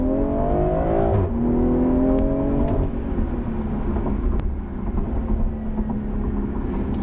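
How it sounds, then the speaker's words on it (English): A BMW M340i tuned with a JB4 accelerates at full throttle in Sport Plus mode from about 20 mph, its engine note rising in pitch and then dropping with quick gear shifts, loud and sustained with no talking. "So we're doing like 20 miles an hour right now, full throttle."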